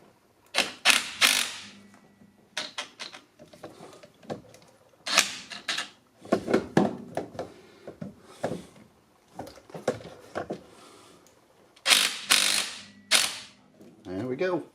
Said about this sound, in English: I'm going to use my impact wrench.